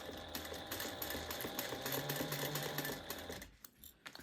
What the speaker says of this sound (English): we're going to top stitch or baste that on